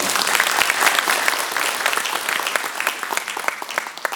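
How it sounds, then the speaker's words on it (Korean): Sustained audience applause fills a symposium hall on the Suncheon Bay hooded crane conservation theme, dense steady clapping from a large crowd throughout, loud and continuous with no speech. "순천만을 지키고 있는 순천 시민들 이분들에게 정말로 박수를 한번 보내고 싶습니다."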